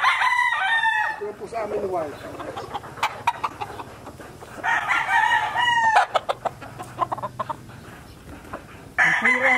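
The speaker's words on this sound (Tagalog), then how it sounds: "Ito yung aming white Boston na may dugong claret." A white Boston gamefowl stag of claret blood, under six months old, crows loudly and close several times, long drawn calls with gaps between, while someone speaks over parts of it.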